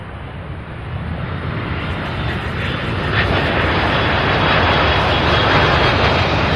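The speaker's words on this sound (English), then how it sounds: "A beautiful MD-11 getting here from Dallas after 1 hour and 28-minute flight from DFW" An MD-11 jet airplane lands at Louisville airport, a loud, broad engine roar that builds steadily and stays sustained throughout, heard from nearby with no talking.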